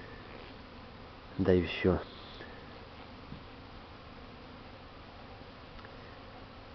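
Many honeybees buzz around their hives during a strong spring cleansing flight, a continuous close hum throughout, with someone briefly speaking over it.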